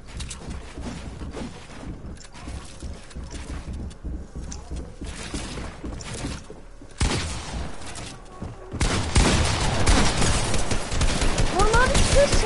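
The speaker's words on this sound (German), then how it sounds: "Oh Mann, Schüsse!" Gunfire in the video game Fortnite crackles in rapid bursts, getting denser and louder toward the end, mixed with other game effects and talk.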